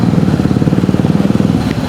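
Many motorcycles rumble at a busy motorbike parking area at an Indonesian petrol station, a steady low idling drone with uneven throbbing pulses, loud and close, with no clear voices over it.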